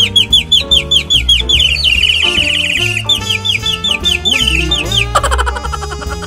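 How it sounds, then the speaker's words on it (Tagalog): A street vendor plays a bird-call flute, giving rapid, loud, close chirping trills and warbles in quick repeated bursts, with some rising squawk-like slides. "nagbibenta ng parang flute na tunog ibon"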